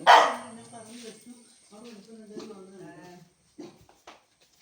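A puppy at a family home gives one loud, close bark, then softer yips and whimpers follow, with people talking nearby.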